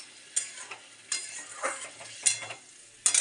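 Fish curry stirred and fried in a pan, with soft sizzling and a few distinct scrapes of a spoon against the metal at irregular intervals, close and fairly quiet.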